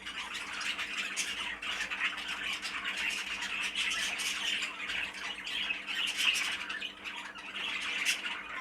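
Budgerigars in a bird shed, sky blue, cobalt and grey opaline cinnamon birds among them, keep up a dense, continuous chorus of squawks and chattering chirps for the whole stretch, fairly close and steady in level.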